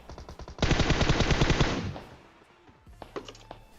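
An M4 rifle in PUBG Mobile fires a rapid automatic burst of about a dozen close, loud shots over a second, followed by fainter scattered shots and clatter.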